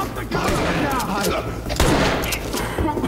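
Gunfire in a police shooter game erupts in a rapid, loud burst of shots and thumps during a gas station robbery, with people shouting over it.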